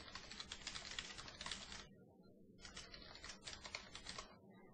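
Typing on a computer keyboard while entering a search query, rapid bursts of close, clicky keystrokes in two runs with a short pause between, no talking.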